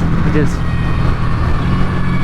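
Buell Hammerhead 1190 motorcycle engine riding through a couple of downshifts, a loud, steady close-up drone dominated by wind and road roar, with a faint rising rev near the start.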